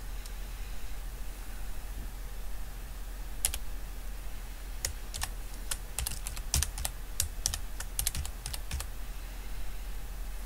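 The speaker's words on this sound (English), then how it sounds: "Type equal sign revenues minus sign direct costs in cell" Computer keyboard keys tapped while entering a spreadsheet formula in Excel, a quick irregular run of crisp close clicks over a faint steady hiss, with sparse strokes early and dense bursts of typing after about five seconds.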